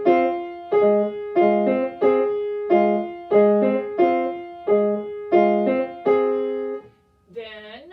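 Piano playing a cross rhythm, left hand in tied eighth notes against repeating right-hand figures, clear and close in a steady pulsing pattern of about a dozen chord attacks, then a brief wavering tone at the end.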